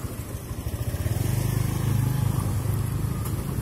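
A motorcycle engine crossing a suspension bridge, a close, loud low putter with a fast pulsing rhythm that builds as the bike nears and stays steady to the end.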